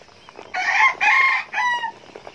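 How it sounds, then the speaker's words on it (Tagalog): Three loud, close calls from chickens kept near a brooder of newly hatched quail, each a drawn-out harsh cluck-crow, closely spaced, over a quiet background. "May mga manok din tayo dito."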